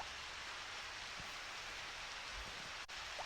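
Steady rain pours in the Harvest Moon farming game, a dense, even hiss of falling drops with no letup, fairly quiet and with no talking.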